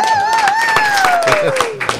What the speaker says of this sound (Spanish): esos aplausos, eh, lo mejor que tienen es que son reales, no son aplausos grabados